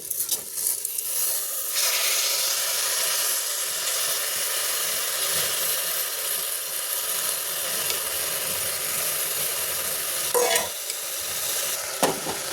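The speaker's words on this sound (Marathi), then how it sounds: "तांदूळ जो आहे तो परतून घ्यायचा आहे या भाज्यांबरोबर" Rice sautéed with vegetables and spices in a pressure cooker for vegetable biryani sizzles loudly and steadily up close, with a few stirring scrapes near the end.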